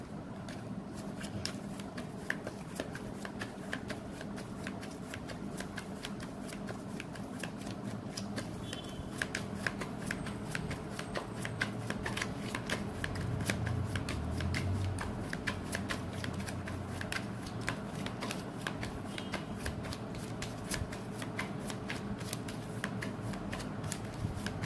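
Tarot cards are shuffled continuously at close range with a steady, rapid riffling and flicking texture. The sound is fairly quiet and plays alone, with no voices.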